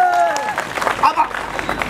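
A comedy show audience at a Gaijatra festival performance breaks into a wash of applause that swells after a moment of voice, with scattered claps and crowd noise near the stage.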